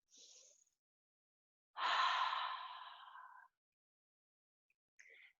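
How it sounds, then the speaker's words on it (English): A deep, slow breath drawn in and let out during a yoga class, heard close and alone: a brief sniff, then a long airy exhale fading over a second and a half, followed by quiet. "So we'll take one more big, deep, slow breath in and out."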